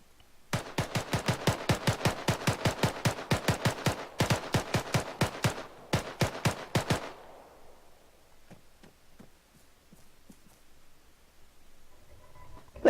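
Rapid automatic gunfire in a video game: loud, dense bursts of shots fire in quick succession for several seconds with short breaks, then fade to scattered faint clicks and distant pops.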